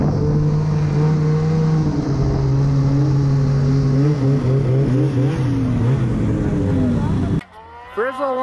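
A Ski-Doo turbo snowmobile engine drones and revs in the mountains, a loud continuous motor note that wavers in pitch before cutting off abruptly near the end, with voices talking over it.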